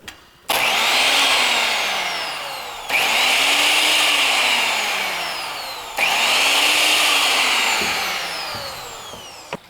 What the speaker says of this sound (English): It's a really smooth sounding motor.